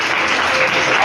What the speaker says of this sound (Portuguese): dê para Jesus mais uma salva de palmas bem forte